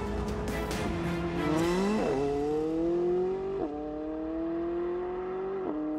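A McLaren 570S sports car accelerates hard, its engine note climbing in pitch and dropping with each quick gear change. Several upshifts follow one another in a loud, continuous roar.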